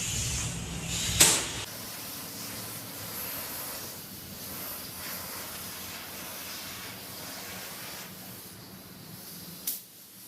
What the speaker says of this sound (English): Okay, so now let's spray inside here.